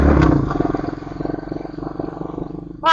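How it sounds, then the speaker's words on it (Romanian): An ATV engine idles unevenly close by in a field, its pulsing putter sputtering and lurching irregularly, running rough, ending in a brief high mechanical whine. "Cam face cam urât motorul și auzi ceva urât"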